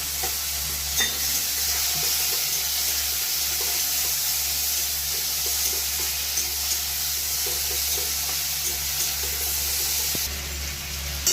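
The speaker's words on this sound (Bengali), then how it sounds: "দিয়ে দেবো রসুন বাটা আদা বাটা আর দিয়ে দেবো টমেটো" Garlic paste, ginger paste and tomato fry in a pan for an egg curry, giving a continuous loud sizzle with repeated spatula stirring over a low steady hum, with no talking.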